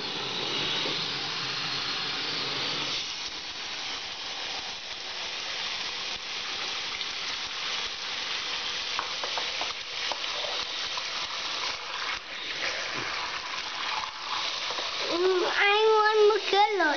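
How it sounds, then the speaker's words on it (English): Water runs steadily from a tap into a sink, a continuous hissing splash that grows a bit louder near the end as a voice joins in. "let's turn on some more water."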